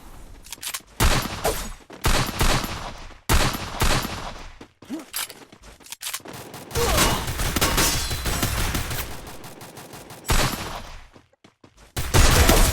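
Rapid gunfire bursts from the Free Fire battle royale game, loud sustained volleys and machine-gun fire with brief pauses, dense and continuous across most of the stretch.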